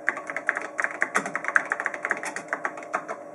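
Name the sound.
typing a comment on a computer keyboard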